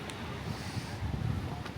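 Cold winter wind in Cascais, Portugal buffets the microphone as a low, continuous rumbling gust, steady and fairly close, rising slightly midway.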